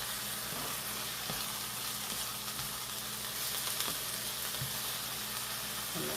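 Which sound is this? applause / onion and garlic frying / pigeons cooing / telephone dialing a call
onion and garlic frying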